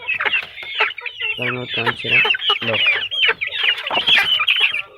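A hen clucks in short repeated bursts while her chicks peep around her, all close by, with a person speaking briefly over them.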